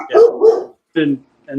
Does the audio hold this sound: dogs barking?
yes